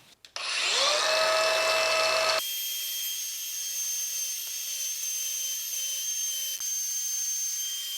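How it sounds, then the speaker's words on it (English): Angle grinder with a flap wheel shaving down protruding screw tips on wood, a loud high whine spinning up and grinding for a couple of seconds, then a steady freewheeling hum as it runs down. "with the flapper wheel attached to my grinder, I'm going to very carefully shave those down so as not to mar the wood"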